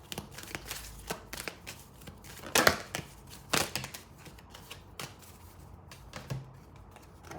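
Tarot cards handled at a reading: soft papery shuffles, slaps and flicks of cards being drawn and laid down, in irregular bursts close by with no talk.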